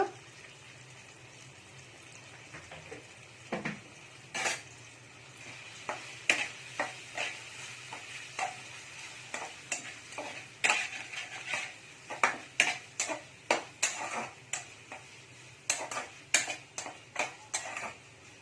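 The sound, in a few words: spices with turmeric being sautéed and stirred in a pan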